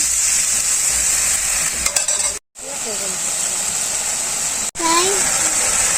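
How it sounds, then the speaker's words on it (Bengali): Spice paste frying in oil in a village kitchen in Bangladesh after a splash of water, giving a loud steady sizzle and hiss with brief stirring scrapes and two short dropouts. "এখন আমি একটু জল দিয়ে দিই কষানোর জন্য মশলাটা।"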